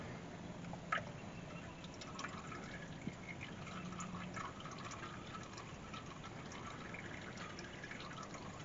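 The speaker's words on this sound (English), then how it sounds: "Turn it over to dump the oil out of there." Old engine oil drains from the filter of a 2008 Honda Accord during an oil and filter change, a steady, soft liquid trickle and pour running continuously with a faint drip or two.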